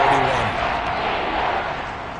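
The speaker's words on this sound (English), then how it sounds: "Crowd getting in it a bit already." Crowd noise at an NFL football stadium, Dolphins at Commanders, swelling ahead of an early third-and-10: a dense, steady roar of many voices that stays loud and close throughout, with no single clear voice standing out.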